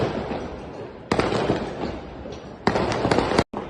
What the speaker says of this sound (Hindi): उसके बाद आ गया गुरुपुरब के लिए पटाखे चल रहे हैं।